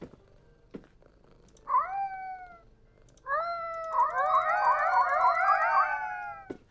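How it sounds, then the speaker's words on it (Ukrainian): A cat in the video game ORDER13 meows in several drawn-out, wavering calls, a short cry first and then a longer run of overlapping yowls, close and fairly loud, with soft clicks around them and no talking. "О, кіт сидить тут."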